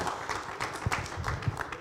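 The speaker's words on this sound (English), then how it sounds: "a round of applause for this panel" A brief burst of audience applause for a panel at a workshop, made of busy, overlapping claps at moderate loudness with a few sharper hits standing out.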